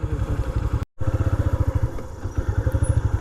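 A motorcycle engine pulses close by in a rapid, uneven chug. It cuts out briefly, then keeps running with a throbbing rhythm. No speech is heard.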